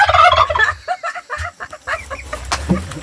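Farm turkeys in the Philippines gobble loudly up close in a rattling opening burst, then trail off into short, spaced clucks and calls with low thumps underneath.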